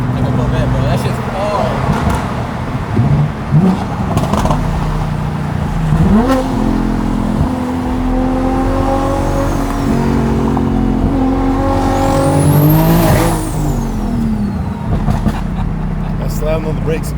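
A BMW M3 engine revs and accelerates through the gears, pitch climbing and dropping with each shift, heard from inside the car.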